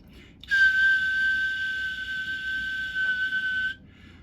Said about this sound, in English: let's give it a little bit of a whistle